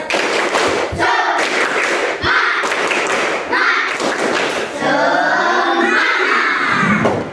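Classroom of schoolchildren performing a rhythmic 'tepuk semangat' clapping chant, with patterned bursts of hand claps and thumps mixed with loud children's voices chanting together.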